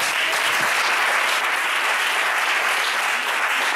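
A church congregation breaks into sustained, dense applause filling the room, steady and loud throughout with no speech over it.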